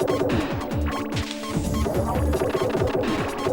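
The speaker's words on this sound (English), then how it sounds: "noise when you've got your piece in the right place" Dense crashing, thwacking game effects from Tetrisphere as pieces drop into place, a rapid busy clatter of overlapping hits and smashes over about three and a half seconds.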